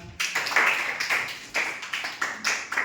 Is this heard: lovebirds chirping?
no